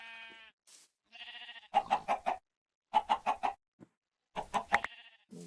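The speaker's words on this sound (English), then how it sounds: "I gathered chickens." Chickens cluck in short rhythmic bursts of three or four calls, repeated several times, among other farm animal bleats in a survival farming video game, clear and fairly close with no talking.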